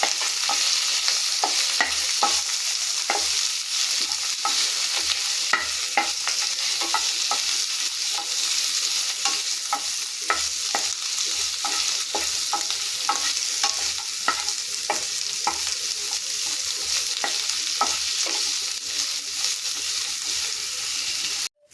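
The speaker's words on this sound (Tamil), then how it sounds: "இது எல்லாத்தையும் சேர்த்து நல்லா வதக்கிடலாம்." Mango leaves sautéing in a pan with green chilies, garlic and ginger, a steady close sizzle punctuated by frequent scraping stir strokes at an even rhythm, with no talking.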